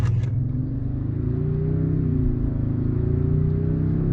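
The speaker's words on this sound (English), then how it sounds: "she gets up to speed pretty good. It's got a nice growl to it." A 2022 Toyota Tundra pickup's engine growls as it accelerates from the driver's seat, a loud, steady, deep rumble that builds slightly in pitch, with a brief click at the start and no talking.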